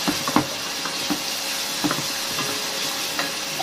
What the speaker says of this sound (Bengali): এখন এই মশলাগুলিকে আমি ভালোভাবে কষায় নিব।